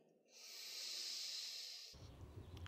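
A slow, deep inhale through the nose during a yoga breathing exercise, a soft steady airy hiss swelling over nearly two seconds and then stopping, close to the microphone with no talk.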